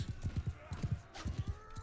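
Horse hooves clip-clop in a rapid galloping rhythm in the Mount and Blade 2 Bannerlord video game, with a brief whinny and a voice talking over the hoofbeats.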